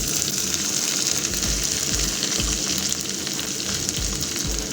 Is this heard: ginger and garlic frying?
yes